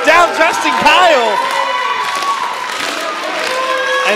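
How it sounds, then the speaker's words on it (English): A crowd at a wrestling event in the Southern Comfort Event Center cheers and shouts loudly in bursts, with raised voices and whoops over a dense, lively din. "There are still pockets cheering for Justin throughout the Southern Comfort Event Center"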